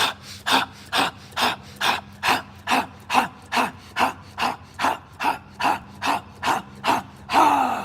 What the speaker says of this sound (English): Inhale, breathe this right there, in the nose, out the mouth.